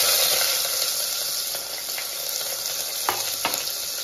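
Onions frying in hot oil with bay leaf, mustard seeds and cumin for stuffed brinjal curry, giving a close, steady sizzle with a couple of sharp crackles near the end and no voices.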